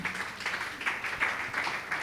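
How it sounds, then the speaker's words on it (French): A congregation at a Sunday church service claps together, a faint, steady patter of hands that carries on throughout without voices. "Applaudissez l'Éternel, s'il vous plaît"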